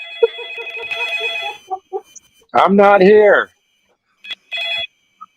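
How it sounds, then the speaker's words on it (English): A telephone rings in repeated electronic bursts, bright and loud, alternating with a man's speech in between rings. "Answer the fucking phone, dude."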